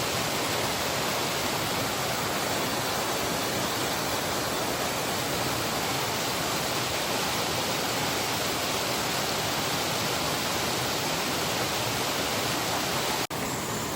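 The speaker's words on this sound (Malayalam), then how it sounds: "ചെറിയൊരു വെള്ളച്ചാട്ടമാണ് ഒരു ഹിഡൻ സ്പോട്ടാണ്" A small hidden waterfall at Kalampara chola gives a constant, dense rushing roar of falling water, loud and unbroken throughout.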